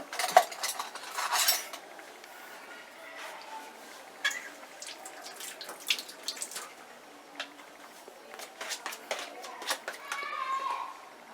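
Metal spoon clinking against a dish while tasting homemade Horlicks in a home kitchen, a bright clink near the start and scattered light taps and scrapes over quiet background.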